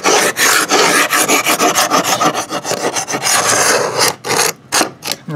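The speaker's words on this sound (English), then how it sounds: "when you get your paint scraper, you're going to be coming along here" A paint scraper rasps along the wooden trim of a stucco house, a continuous rough scraping built from rapid repeated strokes, loud and close, breaking into a few separate hard scrapes near the end with no talking.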